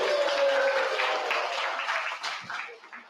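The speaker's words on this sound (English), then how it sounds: "Give them a big round of applause." Applause from an audience in a library hall after a live talk event, a steady dense wash of clapping that tapers off toward the end, with no speech over it.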